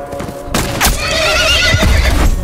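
A horse in The Last of Us video game lets out a loud, close whinny over hoof clops and a rumbling background, lasting about two seconds.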